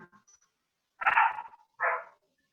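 Two loud, nearby barks from a dog, separated by a short pause and followed by quiet, with no talking.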